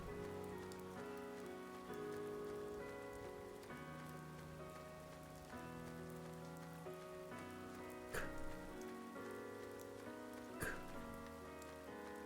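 Rain falls steadily in a video game, a continuous wash of drops under layered sustained music, with a couple of brief louder hits partway through.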